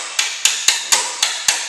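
Six sharp metallic blows land at a steady, unhurried rhythm as a tool pounds the rear wheel axle of a BMW F650GS motorcycle. The strikes are close and clear, and no one speaks.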